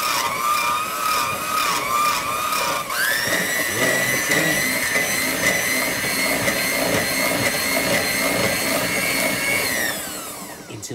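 An electric mixer whirs loudly and continuously as buttermilk is beaten into a buttermilk pie filling, its motor pitch shifting upward partway through and winding down at the end.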